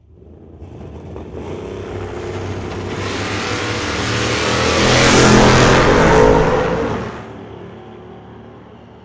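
A 1981 Camaro and a 1962 Chevy II launching side by side at a drag strip, engines building into a loud, rising roar that peaks mid-run and then cuts off sharply.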